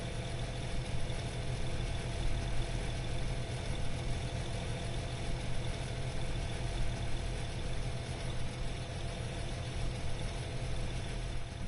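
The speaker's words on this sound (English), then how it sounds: "Listen to the engine." A vehicle engine idles in Farming Simulator 22 on the Iowa plains map, a steady, even low drone that carries on unbroken with no talk over it.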